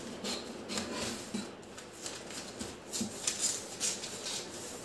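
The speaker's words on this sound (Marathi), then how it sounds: "आता आपण हे कटिंग करूया।" Scissors cut through blouse fabric with a continuous rough, rasping shear and a few small clicks, close and fairly loud, steady across the whole stretch.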